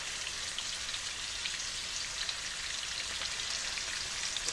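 Beef pot roast sears in a hot pan, a steady, even hiss of crackling sizzle at moderate level, continuous and alone with no talk.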